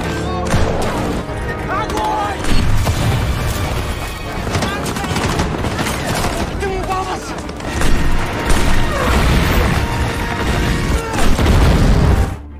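A war-film battle in which Soviet forces fire artillery at German Panzer tanks: loud, continuous gunfire and heavy booms mixed with dramatic music, sustained for the whole stretch.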